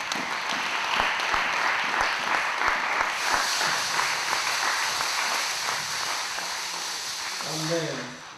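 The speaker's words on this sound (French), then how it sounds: "Est-ce qu'on peut applaudir le Seigneur?" A church congregation at a Sunday service applauds continuously, a dense steady wash of clapping from many people, while a voice speaks over it near the end.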